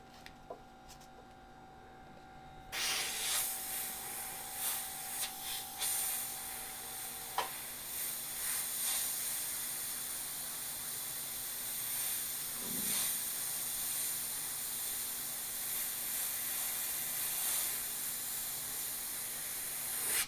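An airbrush sprays thick white paint in a steady, close hiss that starts abruptly and runs continuously, with a faint tone fading out early and no talking.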